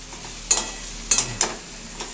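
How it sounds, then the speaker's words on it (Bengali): Potato and pointed gourd pieces being turned in spiced oil, giving a soft steady sizzle beneath a few sharp spoon clinks against the pan, spaced irregularly and close by. "দিয়ে ভালো করে একটু আলু পটলটা নাড়াচাড়া করতে হবে"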